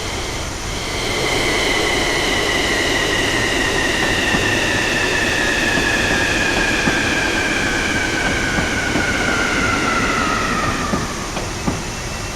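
Train in Train Simulator rolling steadily for about ten seconds, a continuous rumble with long descending wheel squeal tones, ending as it slows.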